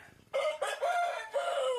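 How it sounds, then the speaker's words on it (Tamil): A chicken gives a few loud, close calls in quick succession, a brief sharp squawk followed by drawn-out crowing-like cries. "இந்த கோழியை"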